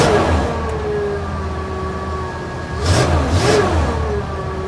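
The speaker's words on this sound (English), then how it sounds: "I'm gonna give it some gas. I'm gonna rev it a little bit." An old truck engine idles steadily and is revved up twice in quick succession, loud and close, then settles back to a rough mid-pitched idle.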